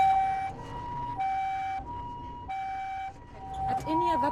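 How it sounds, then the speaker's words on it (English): An ambulance siren cycles between two alternating pitches, loud and steady, with traffic noise underneath and a brief burst of other sound at the end. "you hear an ambulance siren, kindly just give way"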